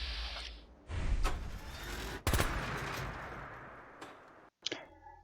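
Rapid bursts of automatic gunfire from the Spartel Wood 9700 machine gun, a modded weapon in the Fallout 4 video game, loud and close, with short pauses between volleys and no talking.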